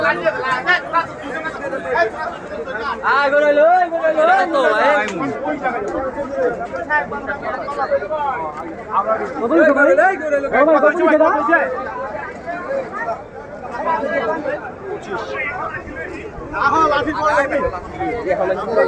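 Dense crowd chatter fills a busy village cattle market before Eid, many voices overlapping into a loud, continuous babble with occasional nearer voices standing out.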